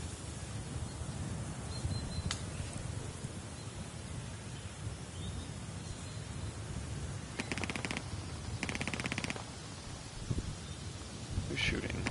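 Airsoft gunfire during a MilSim game outdoors: two short rapid bursts of cracking shots at mid distance over constant wind-like noise, followed by a lone snap near the end.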